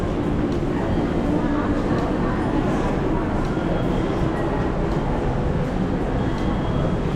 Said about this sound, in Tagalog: Dito na kami sa LRT mga ka-business.